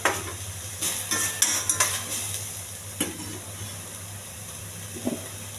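Onions with curry leaves, bay leaf and cinnamon sizzle in a little oil in a pan on a stove while a spoon stirs and scrapes, with scattered clinks over a steady low hum, no talking.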